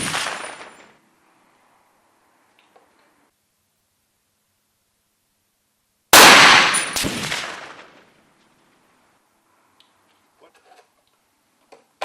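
Two or three sharp rifle shots from a semi-automatic Argo carbine firing 165-grain rounds, a loud crack at the start and another close burst a few seconds later, with long quiet gaps and faint clicks between.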